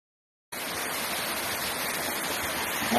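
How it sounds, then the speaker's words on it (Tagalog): A gushing stream of water rushes steadily on a farm property, a dense, continuous roar that starts abruptly and holds at an even level throughout, with no voices. "Yung lagas-las po ng tubig, maririnig nyo."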